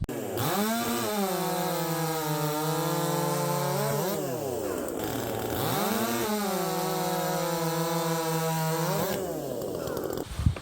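A Husqvarna C33 .325 chain on a chainsaw makes two timed cuts through wood, the engine revving up and holding a loud, steady roar under load each time, then dropping back before the next cut.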